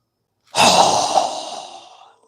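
A single strong exhale during a yoga breathing exercise, a close, breathy rush of air that starts sharply and trails off over about a second and a half, alone against silence.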